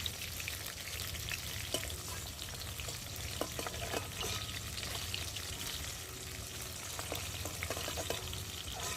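Pieces of rohu fish fry in oil, producing a dense, even sizzle with occasional soft scrapes and taps of a turning utensil, heard fairly quietly.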